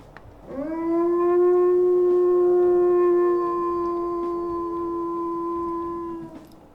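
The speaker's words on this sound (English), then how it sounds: "let's go ahead and listen to her howls as well" A female wolf in the game WolfQuest gives a single deep, powerful howl. It holds one steady, resonant pitch for about six seconds, then fades out, heard alone and close.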